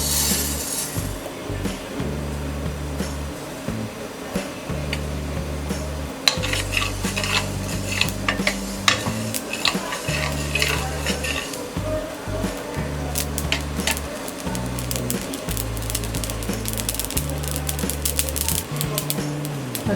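Mustard seeds sputtering in a hot dry pan while making zero-oil rava upma, a steady crackle of tiny pops and sizzles, with intermittent stirring clinks of a spoon on the pan, close and moderately loud.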